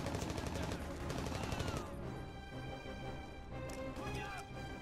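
SMG in the video game Mercenaries: Playground of Destruction, firing in a rapid burst that fills the first two seconds with dense, fast repeated shots, then gives way to quieter game noise, with a voice talking over it.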